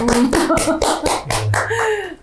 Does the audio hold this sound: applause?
yes